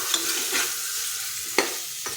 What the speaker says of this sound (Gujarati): તો તમે જોઈ શકો છો આપણા મસાલા સરસ સતળાઈ ગયા છે